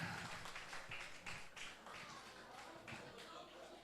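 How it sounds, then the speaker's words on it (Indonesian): Applause for a guest at a school workshop on drug prevention, a steady patter of many hands clapping in a room, continuous and fairly even with a murmur of voices beneath. "Ya kita beri plus tepuk tangan"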